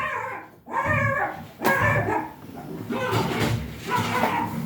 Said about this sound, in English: that's my dog going after something.